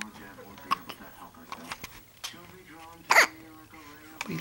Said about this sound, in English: Got the hiccups this morning.